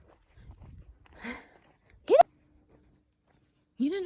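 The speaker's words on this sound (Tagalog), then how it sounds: "Tinahulan pa ako nitong asong to." A dog named Ace barks twice, short and sharp, about two seconds apart, outdoors in the late afternoon near chickens being fed; a person speaks softly just before the first bark.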